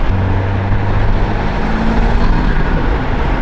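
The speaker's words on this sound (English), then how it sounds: "You get a lot of flutter too." A 2023 BMW M240 with a B58 engine and Dinan intake under boost gives a loud, continuous engine and turbo roar with a whooshing flutter, heard close and steady throughout.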